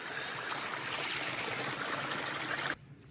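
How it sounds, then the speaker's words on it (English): A small stream flows through a cold campsite on a hiking trail, with a steady, soft rushing and trickling of water that continues evenly, then cuts off near the end. "It's a nice little water stream in camp."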